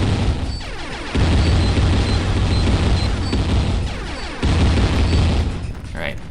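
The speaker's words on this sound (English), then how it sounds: "my own explosions were knocking me around" Repeated booming explosions in the Jazz Jackrabbit 3 video game, dense bursts rolling one into another over game effects, loud and close.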